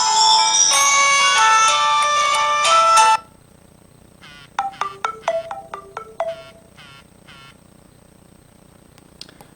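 Polyphonic ringtone melodies from a Nokia 3720 Classic loudspeaker: a dense, loud tune for about three seconds, then a sparser run of bright plucked notes and chimes with short gaps, alone with no talk.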